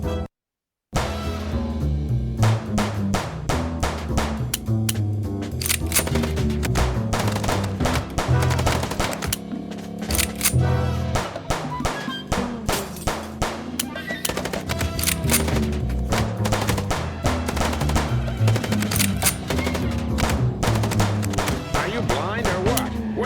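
Gunfire in the Chicken Police video game: repeated rapid bursts of shots crackle loudly over a continuous music-like background, with short pauses between volleys across the whole stretch.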